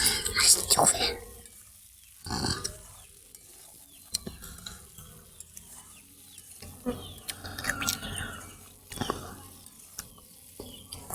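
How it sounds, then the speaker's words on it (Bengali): Oil sizzles steadily in a pan as olives fry while a utensil stirs and scrapes through them in repeated bursts, close by. "জলপাইগুলো দিয়ে তেলের ভিতরে একটু ভাইজে নেবো"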